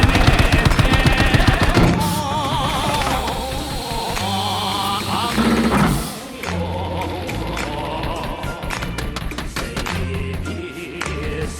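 Aircraft machine guns fire in rapid bursts during a Battlefield V dogfight, with an A6M5 Zero's rattling rounds layered over a steady engine drone throughout.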